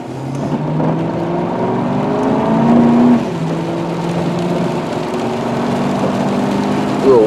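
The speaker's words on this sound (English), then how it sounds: "A little wheel spin there on that wet road" Car wheels spinning on a wet road, a steady close engine drone that rises and whines in pitch as the tyres lose grip, continuous and fairly loud, with a voice talking over part of it.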